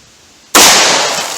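.357 Magnum Hornady Critical Duty round fired from a full-sized handgun into water jugs, a single sharp, loud gunshot after brief quiet, followed by a fading echo.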